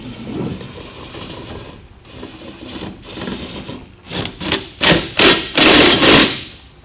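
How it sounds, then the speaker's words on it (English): A cordless impact wrench fires in several short, loud bursts at close range while installing TireBlocks, the hammering pulses growing stronger and closer together toward the end after a stretch of low workshop noise. "Go ahead and start it. I use a cordless impact."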